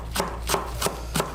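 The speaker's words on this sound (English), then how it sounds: "Slice the green onions." A knife slices green onions on a cutting board with four crisp, evenly spaced chops in quick succession, close and clear against a quiet background.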